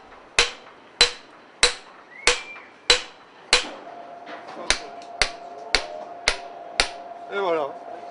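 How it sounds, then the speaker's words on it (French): Sharp metal-on-stone hammer strikes ring out at a steady pace as hand tools split stone blocks from the north portal of Reims Cathedral, about a dozen blows, close by, with faint voices in the background. "On scie, on éclate la pierre, pour enlever les blocs de la structure du portail."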